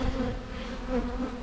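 Honeybees crowding and buzzing in front of a weaker hive during a robbing attack, a dense steady drone of many wings close by with no voices.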